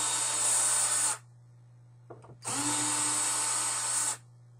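Power driver backing out the screws of an old door latch plate, two steady high whirring runs of about a second and a half each, separated by a brief clink, close and loud with a constant hum underneath.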